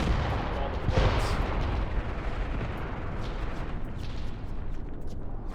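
A continuous roaring artillery barrage in the war game Graviteam Tactics, with dense overlapping booms and rumbling blasts at steady high loudness, a sharper burst near the start and scattered crackling impacts afterward.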